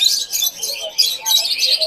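Many small caged birds at the Mirpur 1 bird market in Dhaka chirp and tweet continuously, bright and close, in quick overlapping calls.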